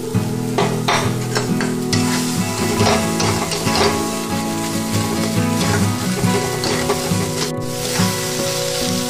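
Chopped green chilli hits a hot pan while cooking, a loud continuous sizzle with scraping stirring strokes and clinks of a utensil against the pan running throughout.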